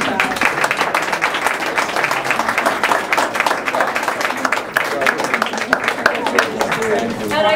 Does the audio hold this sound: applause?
yes